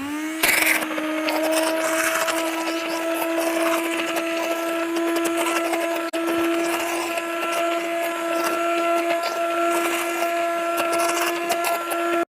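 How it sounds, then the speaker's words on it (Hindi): A steady, loud motorized whir with a sustained tonal hum runs unbroken for about twelve seconds as an electric kitchen grinder blends cooked mixed lentils into a thick mixture. "अब मैं इसकी ग्राइंडर से इसकी घुराई करूँगा"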